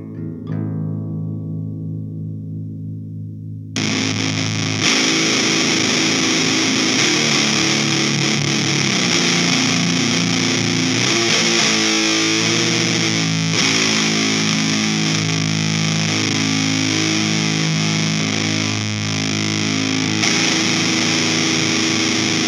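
Heavily distorted electric guitar through a Dirt Monger Decomposer distortion pedal and PowerStage 700 amplifier, playing sustained, gritty chords and riffs, loud and continuous after a short cleaner opening note.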